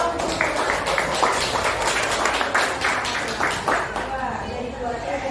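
Audience applause at a school teacher-training presentation, a dense, continuous burst of many hands clapping at close range, with voices mixed in.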